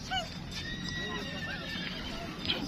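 Several horse whinnies ring out over a busy outdoor crowd murmur at the Cheradangi horse fair in Dinajpur, with a clear high neigh near the start and another toward the end.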